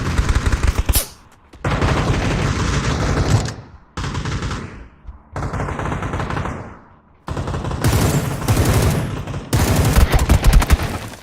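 M416 rifle fire in a video game: long, loud, near-continuous automatic bursts broken by brief gaps, with rapid shots crackling densely throughout.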